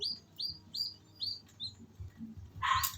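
A newly hatched chick cheeps in a short run of thin, high peeps, four or five evenly spaced calls close by, followed by a brief scrape or rustle.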